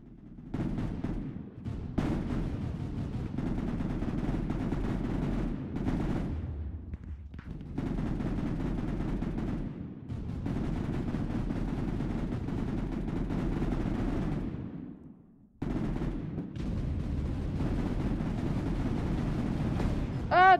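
Sustained automatic rifle fire in a Minecraft Mineplex game, a loud, dense rattle of shots running almost continuously with a few brief pauses and a sharp burst at the end.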